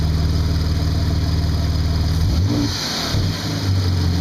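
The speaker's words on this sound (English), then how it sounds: "Do a little rev." 2002 Audi S4 engine running just after a coil pack and spark plug replacement: steady idle, then a short rev that rises and falls back before settling to idle again, close and loud, no talking.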